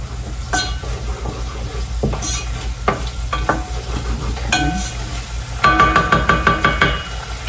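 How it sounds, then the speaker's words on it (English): Salmon is stirred in a hot, sizzling pan: a loud, steady frying hiss with scraping and clacking stirs throughout, turning into a quick run of sharp knocks against the pan near the end. "keep stirring"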